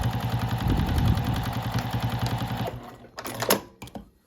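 A sewing machine stitches a zipper onto a fabric bag, running in a steady rapid clatter for nearly three seconds before stopping, followed by a few scattered clicks and handling noises.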